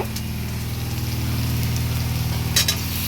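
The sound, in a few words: marinated chicken added to hot oil, sizzling in pan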